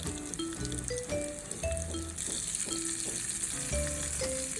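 Bacon frying in olive oil in a pan gives a soft, continuous sizzle with occasional stirring, fairly quiet, while faint tonal background music runs underneath.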